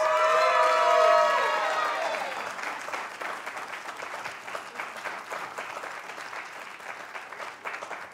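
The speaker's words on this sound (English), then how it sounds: "can we give them all another round of applause?" A crowd applauds the winners of an oratorical contest, with cheering rising over the first two seconds before settling into steady, sustained clapping from a large audience.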